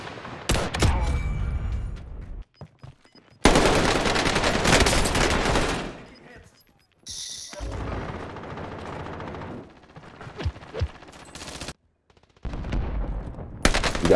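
Heavy sustained gunfire in a shooter video game, long loud bursts broken by short pauses, with faint voices in the gaps.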